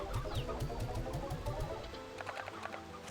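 Hens cluck in the Slime Rancher 2 video game, a rapid run of repeated calls in the first half over a busy backdrop of game music and effects, fading into lighter chiming sounds.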